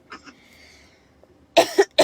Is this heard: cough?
yes